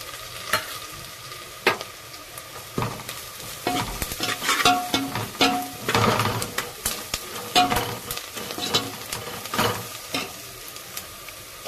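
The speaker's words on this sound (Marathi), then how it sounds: "कांदा हे सगळं टाकून परतून घेते" Onion and spices sauté in a pan with constant sizzling and repeated scraping and stirring strokes, close and fairly loud, with no voices.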